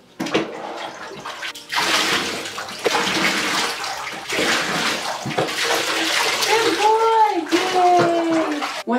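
Water runs into a bathtub in strong bursts while an English Springer Spaniel is wetted down, broken by brief pauses, and a person talks nearby.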